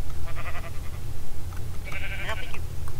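Minecraft sheep bleat twice in brief wavering calls over a low rumbling game background.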